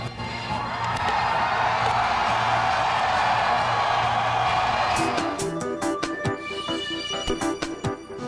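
A big rock concert crowd at a show in Baltimore roars and whoops in a loud swelling cheer, then the noise breaks up into scattered shouts and sharp bursts.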